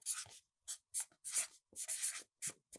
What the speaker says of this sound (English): So I'm gonna write the name real quick.